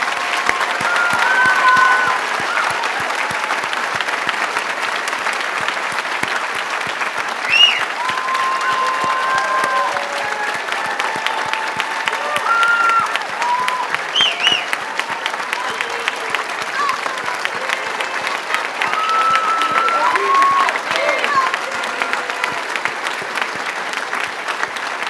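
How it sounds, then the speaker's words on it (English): A graduation-style ceremony audience applauds faculty members at a prize day event, a dense, steady wash of many hands clapping that holds loud and continuous for the whole stretch, with faint voices mixed into the crowd noise. "So please join me in a round of applause and appreciation for the dedication and skill that each of these faculty members has"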